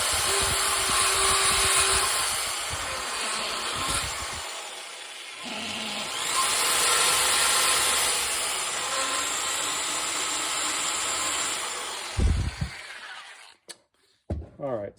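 A power grinder ports a 440 Mopar V8 cylinder head, a steady high whine of bit on metal in long passes with brief pauses and shifts, close and loud, ending in a few short bursts.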